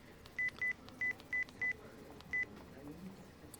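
Six crisp DTMF tones of a telephone being dialed, spaced unevenly over a few seconds, fairly loud above a faint background hum.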